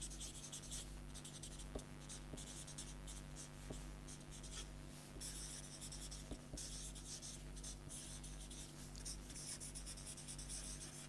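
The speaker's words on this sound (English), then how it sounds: "let us write that down" Pen or chalk writing something down during a lecture on the Daubechies wavelet family: steady scratching and scribbling strokes with small taps, quiet and close, over a constant hum, no talk.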